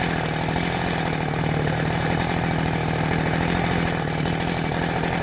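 A chainsaw felling a tree on a farm runs at a steady, high, loud rev throughout, with a close, unbroken engine drone and cutting rasp and no pauses.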